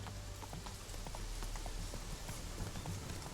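Steady clip-clop of horse hooves at a trotting pace, moderately near, over a constant background hiss with no talking.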